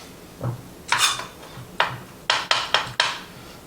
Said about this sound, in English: Let's get this guy minced.